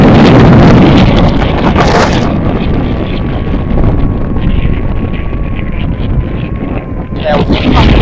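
Steady wind roar buffets the microphone of an FPV drone flying fast in gusty, stormy conditions, with a thin motor whine running underneath throughout.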